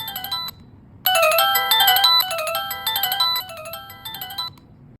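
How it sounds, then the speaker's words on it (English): A USB plug-in wireless doorbell chime plays a bright melodic ringtone, a brief tone then a fuller multi-note tune lasting several seconds, loud and close with no talk. "When the visitor presses the doorbell"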